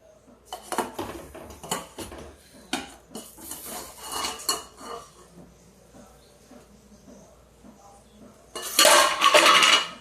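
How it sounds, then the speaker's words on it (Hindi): A pot of cooking white eggplant with chickpeas and peas is handled with metal utensils, giving a string of clinks and scrapes, then a loud clattering burst near the end as the lid goes on. "थोड़ा सा इसको हम 5 मिनट के लिए ढक देते हैं।"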